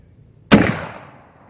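A single sharp crack from a cap lock rifle firing outdoors, close and loud, with a short decaying tail after the shot.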